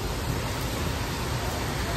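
Rain pours in BGC, a steady dense hiss of drops falling outdoors, loud and continuous with no voices.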